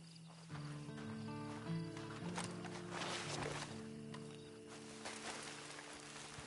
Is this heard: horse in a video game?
yes